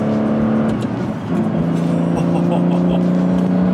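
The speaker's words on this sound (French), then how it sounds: "Le moteur, oh là là, les relances." A 2005 Aston Martin Vanquish S, a heavy V12 coupe built at Newport Pagnell, revs hard in a close, loud onboard pull, its engine note climbing steadily and holding a strong drone throughout.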